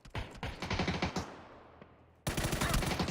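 Rapid bursts of automatic gunfire in PUBG, a competitive Nordic League match, crack out in quick rhythmic clusters, drop away into a fading tail, then resume loud and dense.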